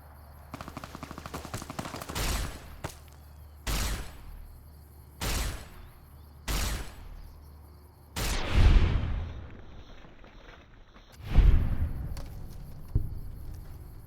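Gunfire in the video game Fallout: New Vegas, with several distinct sharp shots spaced a second or two apart, then two heavier blasts with long rumbling tails, all fairly quiet in the mix.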